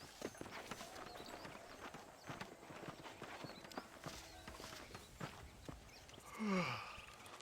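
Horse hooves clip-clop in Red Dead Redemption on Xbox 360, a steady walking rhythm of soft, close hoofbeats, ending with a brief snort or whinny-like breath from the horse.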